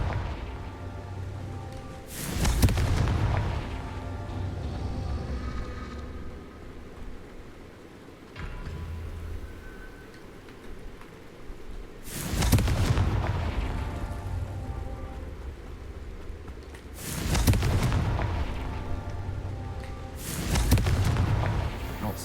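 Several heavy booming explosions from the Confringo fire spell in the video game Hogwarts Legacy, spaced several seconds apart over a continuous rumbling game background.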